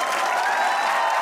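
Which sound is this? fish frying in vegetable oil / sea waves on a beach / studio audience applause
studio audience applause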